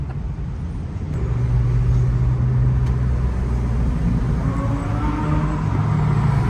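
A car engine rumbles loud and close at a South Florida toy car rally, building in revs with a low tone that shifts as it downshifts.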